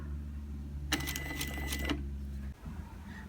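A sewing machine stitches an invisible zipper in a short burst of about a second of fast rattling stitches over a steady low motor hum, close by, which then cuts off.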